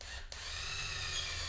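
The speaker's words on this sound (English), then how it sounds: "And now we will use the Countersink." A power drill driving a countersink bit into wood while building a closet, a brief pause and then a steady, close, continuous whir and grind that holds for over a second with no talking.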